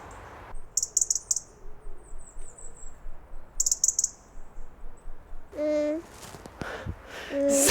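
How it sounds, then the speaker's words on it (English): Birds giving alarm calls outdoors, repeated sharp bursts of high-pitched notes in two clusters, followed by a few lower, tonal calls near the end, fairly close over a quiet background. "Some bird alarm calls. They're not comfortable at the moment."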